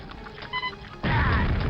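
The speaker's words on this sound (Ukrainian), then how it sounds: "Давай таку гранату і таку. І дивимося на вибухи." Grenade blasts in Quake: Scourge of Armagon: a short electronic tone and a clank come first, then a thick, low explosion rumbles on loud until the end.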